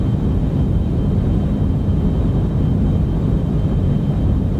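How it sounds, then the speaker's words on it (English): Steady, heavy rocket engine rumble at liftoff in the Orbiter space simulator game, a loud continuous low roar that holds constant throughout with no voices. "We have commit and we have liftoff."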